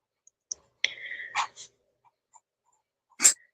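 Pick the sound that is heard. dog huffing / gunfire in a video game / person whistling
dog huffing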